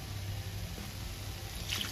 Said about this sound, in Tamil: இந்த பாஸ்மதிக்கு தேவையான வாட்டர் விடுறோம்.